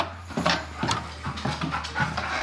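Excited dogs panting and whimpering at close range, a rapid, uneven series of breathy pants broken by short high whines, with no talking.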